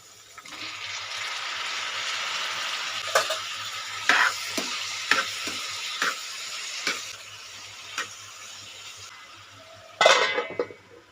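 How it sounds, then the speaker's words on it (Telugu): Tomato pieces and beans cooking in a pan for a mild vegetable rice, a soft sizzle under a series of scattered spatula knocks and scrapes, with a louder stir near the end. "ఇప్పుడు టమాటా ముక్కలు వేద్దాము."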